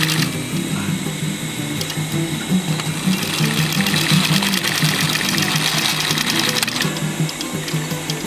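A sewing machine runs a continuous double stitch along a boxy bag with handles, its motor humming close and loud with a fast, even needle chatter and slight speed changes throughout.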